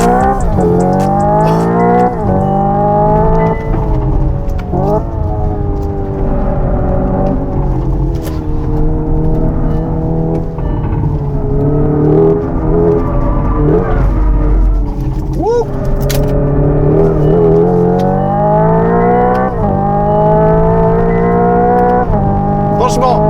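A Hyundai Ioniq 5 N electric car on a race circuit, with ESP off and simulated gear shifts, plays a loud synthetic engine note that climbs and drops through shifts. Someone talks over it.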